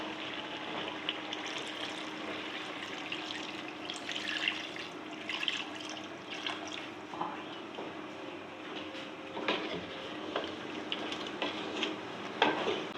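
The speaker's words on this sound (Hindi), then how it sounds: "अभी इसमें मैं पानी ऐड करती हूँ।" Water poured into a pan of frying potato and chicken curry, a steady hissing sizzle with pouring and stirring noises running throughout, close and moderately loud.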